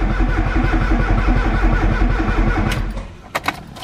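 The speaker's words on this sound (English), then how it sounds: "we're just going to crank this over until the oil light disappears" A Ford Sierra RS Cosworth engine, not run for four years, cranks over on the starter with a fast, even rhythmic chug for nearly three seconds, then stops, followed by a couple of sharp clicks.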